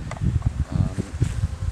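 Dense buzzing hum of many bees close up at a hive entrance, pulsing and droning continuously with a busy, swarming texture.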